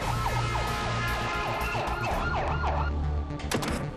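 An ambulance siren wails in repeated rising and falling sweeps over road traffic noise, fairly loud and close, ending with a sharper burst near the finish.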